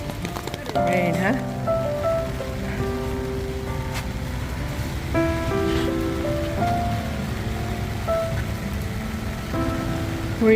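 Rain falling on a beach at Turtle Bay, Oahu, Hawaii, with surf nearby, forming a steady hiss beneath prominent tonal voices or music throughout.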